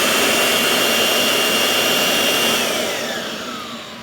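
A Kirby G4 vacuum cleaner runs with its hose attachment, a loud steady whine with a high-pitched tone that falls slightly as the motor starts to wind down near the end.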